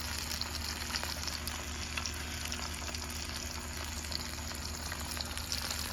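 A large bass fillet frying in hot oil at a campout, giving a dense, continuous close sizzle and bubbling crackle with faint scattered pops and no talking.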